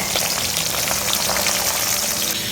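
Oil sizzles and crackles steadily in a pan while hilsa fish and other food fry in a home kitchen, a close, dense spitting sound with no talking.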